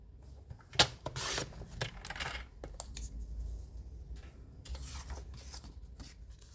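Paper pieces being cut for a portfolio album, giving a quiet run of crisp snips and rustling handling sounds, a sharper click near the start, with no voices.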